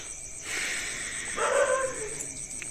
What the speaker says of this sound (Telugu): కుక్క అరుస్తుంది పైన